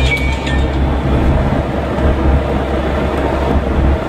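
A Kia Bongo diesel truck accelerating after shifting straight from second to fifth gear, heard as a loud, steady low engine drone and cab rumble that holds without shuddering.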